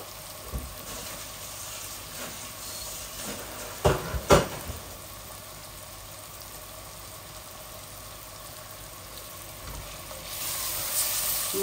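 Cooking apple pieces fry in a pan with a steady low sizzle, broken by a few sharp utensil knocks against the pan, the frying hiss swelling slightly toward the end.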